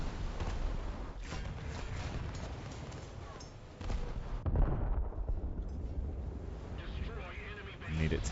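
Naval guns fire in a realistic US Navy versus Imperial Japanese Navy battle game, heavy booming blasts rolling continuously over the whole stretch, with a louder burst midway and talk running underneath.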